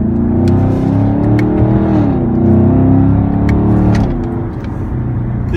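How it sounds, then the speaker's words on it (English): The engine of a 2016 Chevrolet Camaro SS heard from inside the car is a loud, steady motor drone that rises and shifts in pitch as it accelerates, with no talking. "All you hear is motor."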